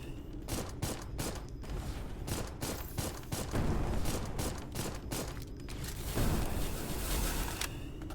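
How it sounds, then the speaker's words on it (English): Sustained bursts of gunfire aimed at the player in the mech game Mecha Girl Souls, rapid overlapping shots and mechanical clatter forming a dense, continuous barrage with no voices. "Oh, they are shooting at me."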